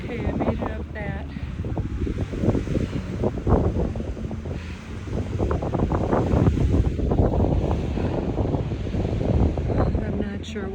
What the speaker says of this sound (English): this wind is really getting strong